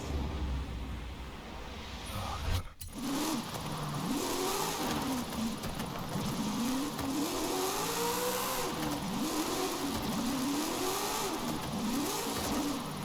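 A drifting car in the racing game Forza Horizon 5, the engine revving loud and continuous with rising and falling sweeps as it slides, a brief cut near the start, no talking.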